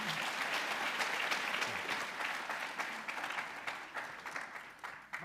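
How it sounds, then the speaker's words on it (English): Audience applause fills a summit hall on agri-entrepreneurship, a dense steady wash of many hands clapping that slowly thins and fades toward the end. "Let's give him a round of applause"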